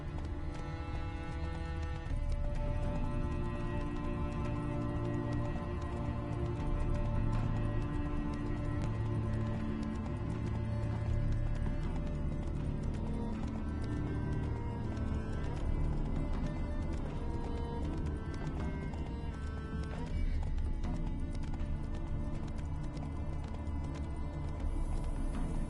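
Rhythmic clip-clop of horse hooves on a hard road in the video game The Witcher 3, horse carrying a heavy load, under a busy musical background, steady and moderately close throughout.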